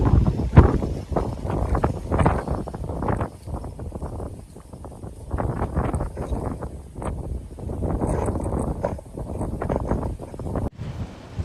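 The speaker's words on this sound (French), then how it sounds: "quand on se met à l'endroit où les ventilateurs soufflent, on sent bien qu'il y a beaucoup de vent" Strong gusting wind from ventilation fans blows inside an enclosed biome, buffeting the microphone in irregular surges and lulls, loud and close throughout.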